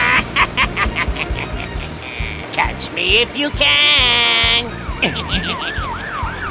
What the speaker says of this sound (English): Police car, go!